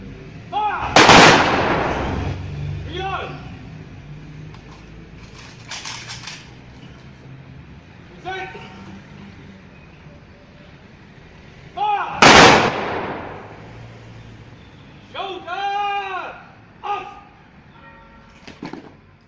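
Gunfire on a firing range: two loud, sharp reports at roughly the start and about eleven seconds later, each with a ringing echo, plus a few softer metallic clicks and knocks between them.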